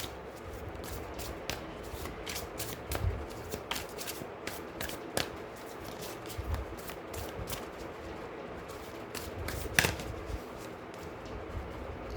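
Tarot-style deck of cards shuffled by hand at close range, heard as soft repeated riffling and flicking snaps in uneven bursts over faint room noise, with no voices.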